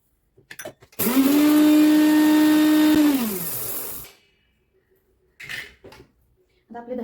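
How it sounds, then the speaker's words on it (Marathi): A mixer grinder whirs loudly grinding coriander seeds and cumin for about three seconds, its steady motor tone winding down as it stops; brief talk comes before and after. "ते पहिले मिक्सरला वाटून घेते"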